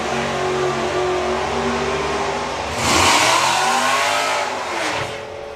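A drag racing car, a Camaro, accelerates down the strip at a summer nationals meet, its loud engine roaring and rising in pitch, then a second surge of revving as it passes, heard from trackside.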